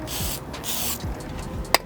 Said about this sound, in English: You just spray it on and then just use a towel.